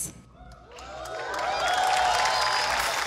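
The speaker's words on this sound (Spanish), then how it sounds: "El público la recibe con un fuerte aplauso" Studio audience at a comedy show breaks into applause and cheering, starting faint and swelling into a loud, sustained wash of clapping with scattered shouts.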